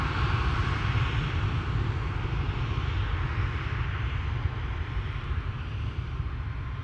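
Corendon Boeing 737 Max 9 bound for Antalya moving at Amsterdam Schiphol, heard as a steady, fairly distant jet engine roar with low rumble and wind, with no talk over it.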